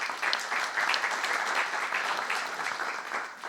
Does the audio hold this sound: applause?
yes